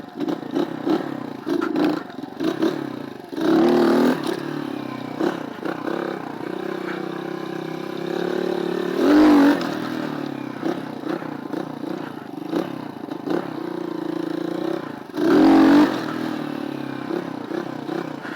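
A motorcycle engine being ridden for wheelies drones steadily, with three louder, short throttle bursts spaced several seconds apart, close by, with faint clatter and no talking.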